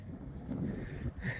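Low, gusty wind buffets the microphone in soft rumbling bursts, with no voices.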